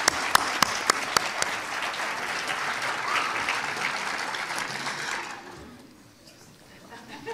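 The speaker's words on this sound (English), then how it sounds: "Let's give them one more applause." Audience at an annual tamburica and folk dance concert applauding graduates, steady dense clapping with a few sharp nearby claps, fading out after about five seconds amid light crowd murmur.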